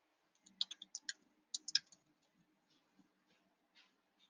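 A cluster of sharp, quiet computer mouse clicks in quick succession, followed by sparse fainter clicks spaced out, close up in an otherwise silent room.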